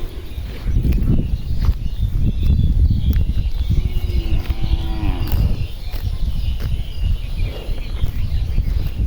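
A single drawn-out cow moo rises midway through, set against a busy outdoor background of rustling and low rumble.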